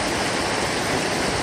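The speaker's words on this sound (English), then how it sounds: "So instead of water shooting up in the air, how about hot water falling down?" Hot water from Old Faithful geyser pouring down in a steady, dense rushing hiss, continuous and fairly loud throughout with no pauses or voices.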